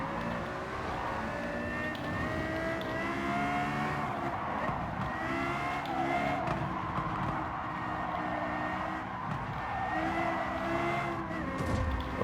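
Lexus LFA with its high-revving V10 racing in Gran Turismo 7, a loud, continuous engine roar that rises and falls with gear changes, with occasional tire squeal.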